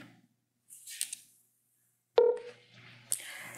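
A telephone is dialed to connect a call-in during a broadcast, with a few brief electronic tones and clicks separated by stretches of near silence.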